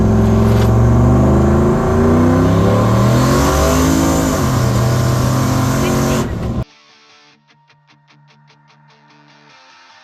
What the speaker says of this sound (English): my truck runs a 0 to 60 in this